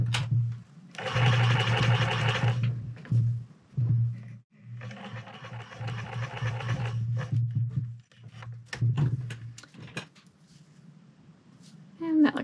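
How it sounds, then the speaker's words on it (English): Sewing machine running test stitches on scraps of fur before work on a fur pelt for a bomber hat, two loud bursts of rapid stitching with a pause between, a voice talking under and between them. "I have some scraps here that I'm going to do some test stitches on, just so I can see how it's sewing before I start on my pelt."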